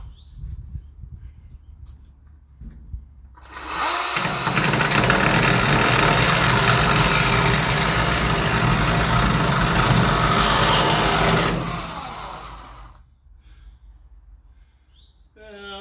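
A chainsaw working near a tractor revs up loudly and runs steadily for about eight seconds before cutting back to a low idle, close and dominant.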